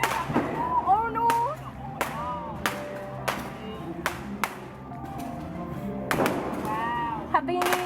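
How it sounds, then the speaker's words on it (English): New Year's fireworks burst repeatedly in sharp cracks and booms, some close and loud, others more distant, over a steady background of crowd noise, while people nearby talk and exclaim. "Like they light up the firework."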